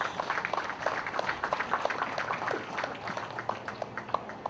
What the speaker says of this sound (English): let's give all the young Palauans who have joined the US Armed Forces a round of applause of appreciation for their sacrifice